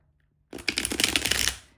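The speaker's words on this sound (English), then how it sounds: "Noticing the cards dancing as they do with each shuffle." A deck of playing cards is riffle-shuffled once, a quick, close, crisp flutter lasting about a second after a brief quiet.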